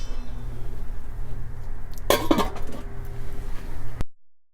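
A brief clatter of metal as a lid is set onto a pot, heard once over a steady low hum of a stove or kitchen.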